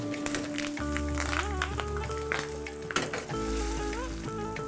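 Fenugreek, mustard seeds and curry leaves frying in a pan for sambar, a soft continuous sizzle and crackle under kitchen background music, with occasional stirring clinks.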